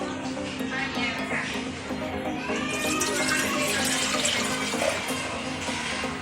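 Water runs steadily into a pressure cooker on a gas stove while making rice for kheer, a continuous close splashing stream that holds level for several seconds.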